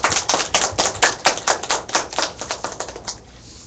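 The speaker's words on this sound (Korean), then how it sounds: "우리 하나님께 영광의 박수 한번 돌려드릴까요?" Congregation applauding during a church worship service, a burst of claps that starts full and loud, then thins into scattered, slower claps before fading out.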